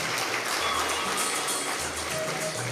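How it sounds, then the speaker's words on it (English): An indoor audience at a nursing college lamp lighting and oath taking ceremony applauds to welcome a guest: steady, dense clapping from many hands that holds at an even level throughout, with a faint low hum underneath. "So with a huge round of applause, let us raise up a hearty welcome"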